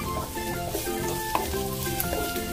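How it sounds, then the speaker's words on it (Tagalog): Garlic and onion sautéing in a hot pan for pork binagoongan, a steady continuous sizzle with stirring clatter throughout, fairly close and alone without talk. "Ayan, nilagay na natin yung bawang at ang sibuyas."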